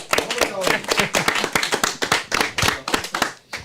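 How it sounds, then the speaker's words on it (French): Close, lively clapping from a small audience welcoming Carole at an evening event, rapid and uneven, loud and sustained for several seconds before tapering off. "On applaudit Carole"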